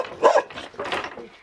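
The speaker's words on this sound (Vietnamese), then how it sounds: "Những chú chó này thì cũng rất là dữ" Dogs in an isolated Dao hill village in Vietnam bark fiercely, a couple of loud nearby barks followed by fainter ones, with no talk.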